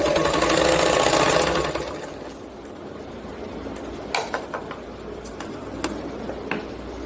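A sewing machine stitching a blouse runs in a fast, loud whirring burst for about two seconds, then stops, leaving scattered clicks and handling taps.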